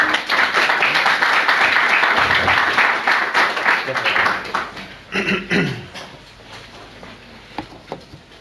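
Audience applause welcoming two speakers at an architecture talk, a dense roar of many hands for about five seconds, then thinning into scattered claps and murmurs.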